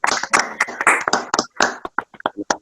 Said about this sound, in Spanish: me gustaría repetir un aplauso al profesor Cristóbal que nos ha